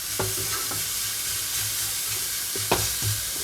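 Green chilies fry in oil in a pan while being stirred, a steady close sizzle broken by a few scraping strokes of a spoon against the pan, with no voices.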